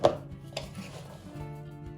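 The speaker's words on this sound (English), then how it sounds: "right now I just wanted to pound some corn and some sticky rice." Corn and sticky rice pounded in a mortar, giving two dull thuds about half a second apart, the first louder, followed by quiet room tone with no talking.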